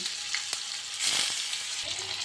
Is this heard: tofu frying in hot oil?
yes